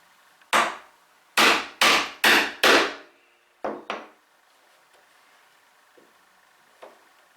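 A mallet strikes a wooden chisel five times in a quick, even series while chopping twin mortises in wood, then two lighter taps follow before quiet with faint scrapes.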